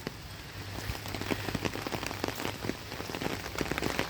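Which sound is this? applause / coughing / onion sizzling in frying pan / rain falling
rain falling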